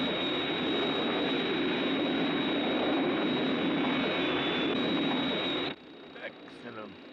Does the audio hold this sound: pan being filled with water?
no